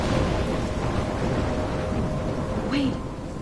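A thunderstorm in Life is Strange rumbles low and heavy with a steady wash of rain, loud and enveloping, while a voice speaks briefly over it.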